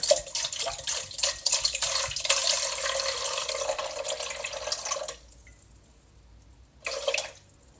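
Water pours steadily into a bowl for sourdough for several seconds, stops briefly, then a short second pour follows.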